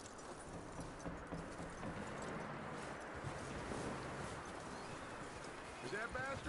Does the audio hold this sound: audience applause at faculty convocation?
no